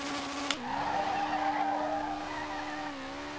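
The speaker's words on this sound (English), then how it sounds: "This thing just spins wheels." Front-wheel-drive race car in the Street Legal Racing Redline video game spinning its wheels on launch: a loud, sustained tire squeal over a steady engine drone, starting after a sharp click and holding nearly level throughout.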